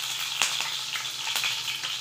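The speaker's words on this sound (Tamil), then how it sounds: "எண்ணெய் ஊற்றி எண்ணெய் நல்லா காஞ்சதுக்கப்புறம் நம்ம பொருசாக கட் பண்ண பச்சை மிளகாய் சேர்த்துக்கலாம்." Coarsely cut green chillies fry in hot oil for a fish roe stir-fry, giving a steady close crackling sizzle with a few sharper pops.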